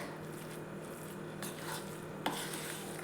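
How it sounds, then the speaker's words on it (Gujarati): Bottle gourd dhokla batter stirred in a bowl, soft wet squishing and scraping strokes with a couple of sharp utensil knocks against the rim, quiet and close. "તો આને આપણે સારી રીતે બધી મિક્સ કરી દઈશું"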